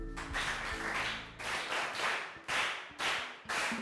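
Primary school pupils clap for a classmate in a lesson on chicken reproduction, sounding as loud rhythmic bursts of group clapping in quick repeated waves, close by, with a low hum underneath.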